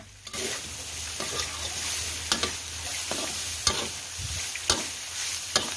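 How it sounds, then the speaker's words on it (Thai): Pork and curry paste sizzle steadily in oil in a hot wok while a utensil scrapes and stirs at irregular intervals, close and fairly loud. "ผัดเนื้อหมูพริกแกงนะคะกับน้ำมันให้หอมเลยค่ะ"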